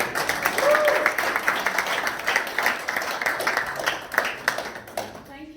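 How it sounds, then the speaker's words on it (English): Conference audience applauds a keynote speaker at a Bank Leumi USA event; scattered hand claps form a moderate, uneven patter that fades out gradually, with a voice briefly heard through it. "I appreciate the applause"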